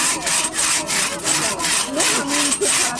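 A hand saw cuts through wood in a forest in steady, loud back-and-forth strokes, each pass a rasping rush that repeats about every third of a second, with no talk over it.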